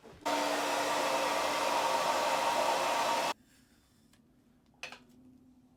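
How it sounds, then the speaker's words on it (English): A hairdryer blasts steadily and loudly at close range while heating a sticker on the back of a Game Boy Pocket, a broad whooshing hum with a low motor tone that cuts off abruptly, followed by a faint handling knock. "I'm wondering if it's worth using the hairdryer just to try and get that off"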